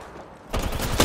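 Gunfire in Apex Legends, a quiet moment then a sudden loud burst of rapid shots in the final half second.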